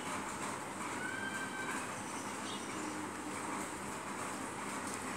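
A train rolls steadily through the mobile game Pick Me Up 3D, a constant rumble and rattle with a brief whistle-like tone near the start.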